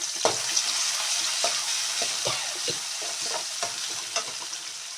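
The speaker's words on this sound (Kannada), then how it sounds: "ಇದು ಫ್ರೈ ಆಗಬೇಕು ಸರಿಯಾಗಿ" Garlic and green chili paste fries in a hot pan with a continuous sizzle, broken by a series of sharp scraping strokes as a spoon stirs it.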